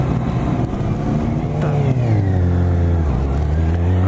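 A 2018 BMW K1600 GT motorcycle engine pulls hard under acceleration, a loud continuous drone that climbs in pitch and then settles, close to the rider with no voices.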